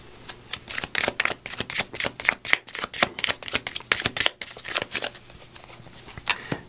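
Angel number cards are shuffled by hand in a tarot reading, giving a steady run of crisp, rapid riffling flicks close by with a short pause near the end.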